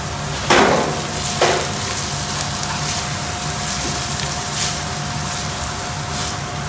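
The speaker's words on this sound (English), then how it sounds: "I'm going to put chickpeas in first because they take longer to cook." Chickpeas fry in a pan with a steady sizzle, while two sharp scraping bursts of stirring stand out near the start and softer stirs follow.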